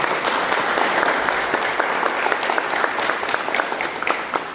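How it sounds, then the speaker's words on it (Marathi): Enthusiastic audience applause at a book-reading interview event, steady dense clapping throughout, loud and sustained with no talk over it. "पण त्यापूर्वी एकदा सौरभसाठी जोरदार टाळ्या."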